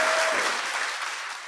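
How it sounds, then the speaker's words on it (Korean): Brief burst of studio audience applause, a dense wash of many hands clapping close and loud, tapering slightly over a second and a half. "박수 부탁드립니다."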